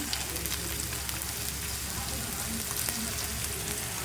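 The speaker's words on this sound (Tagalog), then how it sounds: "Guys, lalagyan na natin ng mantika." Cooking oil sizzles in a hot pan for a chicken curry, a dense, even crackle that holds steady and fairly loud for a few seconds without pause.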